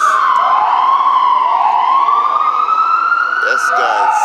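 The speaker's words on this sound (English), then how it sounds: "Ambulance, a lot of noise." An ambulance siren wails through Union Square in downtown Manhattan, loud and near, its pitch sweeping slowly up and down against steady city traffic noise, with a voice briefly audible.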